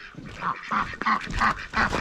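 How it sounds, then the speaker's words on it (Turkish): Several chickens squawk and cluck in quick repeated bursts, close by, with a throaty, nasal quality and no voices. "Tavuklar, tavuklar."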